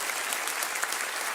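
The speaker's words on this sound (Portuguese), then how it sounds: "Uma salva de palmas para você." A church congregation applauds during a sermon, with dense, steady clapping from a crowd that holds even and fairly loud throughout.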